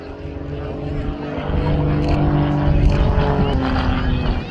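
A Grob Tutor propeller trainer flying a stall turn at the RAF Cosford airshow, its engine droning loud and continuous with a wavering pitch as it climbs and turns, under crowd and commentary noise.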